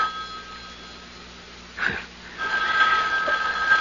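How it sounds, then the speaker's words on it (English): An electric telephone bell rings in a radio drama, a short faint burst then a louder sustained ring starting mid-way, with no talk over it. "The phone."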